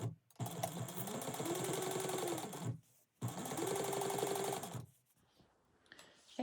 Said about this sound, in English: And then you can top stitch this at a 1/8 of an inch seam allowance.